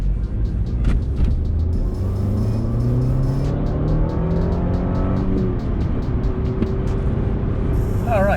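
A Subaru STI pulls away from a full stop, its engine note climbing through several rising sweeps as it gathers speed, loud and close inside the car, with a steady ticking pulse running along underneath.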